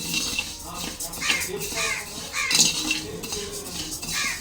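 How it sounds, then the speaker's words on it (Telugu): Rice being fried and stirred in a pan for Telugu sunnundalu made with urad dal, a dense scraping and clinking of a utensil against metal over a steady sizzle, close and loud. "బియ్యాన్ని కూడా దోరగా ఫ్రై చేసుకోండి"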